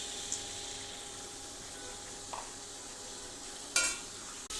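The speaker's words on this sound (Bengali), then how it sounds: "তো দেখেন ডাউল দিয়ে আমি মিশিয়ে নিয়েছি" Lentils being stirred into vegetables and green chilies in a pan: faint, soft scraping and stirring over a low sizzle, with a few light clinks of the utensil against the pan.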